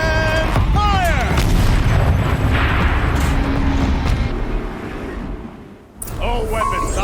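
Turret cannon fire in the video game Horizon Zero Dawn, a loud booming blast followed by a sustained rumble, with a voice shouting commands and other game sounds over it.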